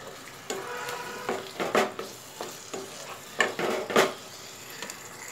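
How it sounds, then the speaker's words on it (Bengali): Cauliflower and potatoes are stirred with spices in a pan, with a little water added. A spoon scrapes and clacks against the metal in irregular bursts over a faint steady sizzle, and no one speaks. "দিয়ে খুব ভালো করে মশলার সাথে ফুলকপি আলুটাকে আমি মিশিয়ে নেব"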